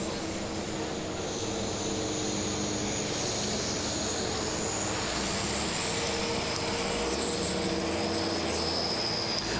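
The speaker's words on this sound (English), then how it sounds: "I think this tractor is his old Super Farm tractor too." A Super Farm class pulling tractor roars at a county fair tractor pull, a loud, steady, sustained engine drone that holds strong from start to finish with no talk.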